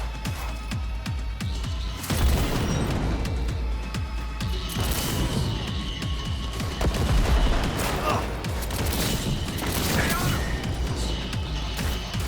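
Bursts of rapid gunfire from a powerful new gun in Cyberpunk 2077: Phantom Liberty, loud and close, with sharp crashing impacts and brief pauses between volleys.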